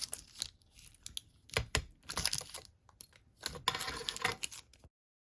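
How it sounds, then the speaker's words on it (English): Polymer clay rolled through a hand-cranked pasta machine makes a series of close rustling, crinkling and clicking bursts, uneven in rhythm, with no talking. "and then finally through my pasta machine"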